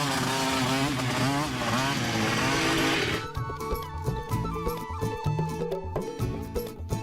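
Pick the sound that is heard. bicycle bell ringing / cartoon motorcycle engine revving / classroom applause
cartoon motorcycle engine revving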